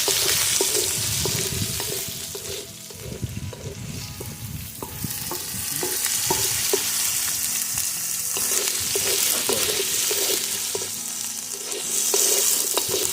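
Cut potatoes hitting hot oil spiced with nigella seeds and frying with a steady sizzle, with scraping and stirring clatter throughout, close and fairly loud.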